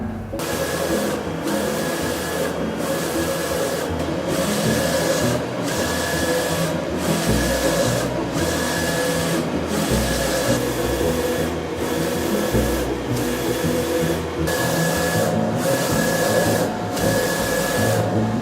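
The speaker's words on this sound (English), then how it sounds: "The next thing is just send it to the printer." A large format printer printing signs runs continuously with a regular, repeating mechanical pass roughly every second, a steady whirring hum underneath, and no talking.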